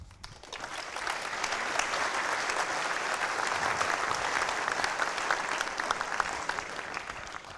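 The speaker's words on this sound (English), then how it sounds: "Thank you for that warm applause." Warm applause from an evening lecture audience in a university building, a dense steady wash of many hands clapping that rises quickly and holds at even loudness throughout, with no talking over it.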